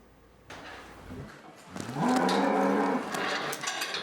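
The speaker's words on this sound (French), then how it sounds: "Ce sont les chouchoutes de Yannick, les vaches vosgiennes." Vosges cows, a rustic mountain breed, low at a farm in Alsace, giving a long, loud drawn-out moo that swells and holds for a couple of seconds after some quieter shuffling noise.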